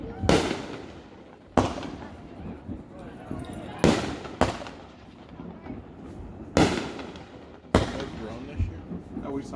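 A fireworks finale over Adams Lake bursts in a rapid series of loud, sharp booms and crackles, each followed by rumbling echoes, with people talking faintly in between.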